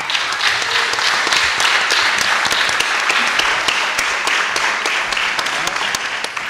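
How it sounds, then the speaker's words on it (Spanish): Audience at a music course closing concert applauds steadily, a thick, even wash of many hands clapping with sharp individual claps standing out, sustained throughout. "Un aplauso, por favor."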